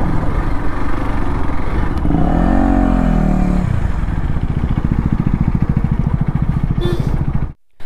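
A BMW 1250 motorcycle revs close behind on a dusty road in Sikkim, its engine note climbing and falling in a short burst over a rough, clattering idle.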